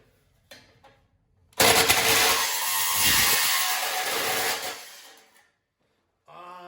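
A power tool cutting copper fin tube from Slant Fin #30 hydronic baseboard, a loud continuous whine that starts abruptly, runs about three seconds and winds down, with faint handling noises before and after.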